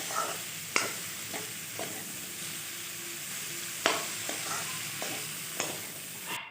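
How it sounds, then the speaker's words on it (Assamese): Radish and potatoes are stirred and fried quickly in a pan: a quiet, continuous sizzle runs throughout, with a few sharp utensil scrapes and knocks spaced apart. "এইখিনি খুব লৰালৰিকৈ মই মিহলাই ভাজি ল'ম"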